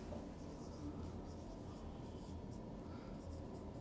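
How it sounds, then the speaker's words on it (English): Marker or chalk writing on a classroom board, faint and continuous scratchy strokes under a steady low background hum. "I say it is 2 kg force and I write it like this"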